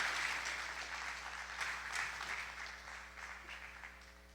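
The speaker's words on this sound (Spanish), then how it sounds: "hay que darle siempre un aplauso" An audience at a church service breaks into applause, a moderate patter of many hands clapping over a faint steady hum, gradually fading.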